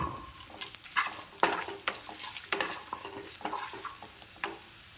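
Dried red chillies and small shallots fry in a hot pan, a close, steady sizzle broken by repeated sharp scrapes and clinks as a spoon stirs them, with no talking.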